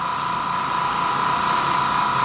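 A steady, loud hiss of an airbrush spraying paint onto a Star Trek Into Darkness Enterprise model, driven by a new air compressor, continuous and close with no pauses.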